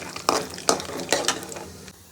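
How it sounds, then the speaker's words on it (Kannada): Peanuts frying in oil in a pan, heard as a few quick, close scraping stirs over a light sizzle, with short gaps between strokes. "ಬಾಣಲಿಗೆ ಸ್ವಲ್ಪ ಎಣ್ಣೆ ಹಾಕೊಂಡಿದ್ದೀನಿ ಕಡಲೆ ಬೀಜ ಹಾಕ್ಕೊಂಡು ಫ್ರೈ ಮಾಡ್ಕೊಳ್ಳೋ"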